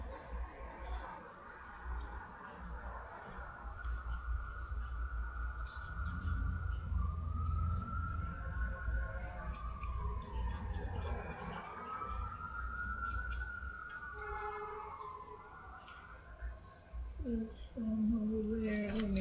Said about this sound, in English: We've got ambulances coming around now.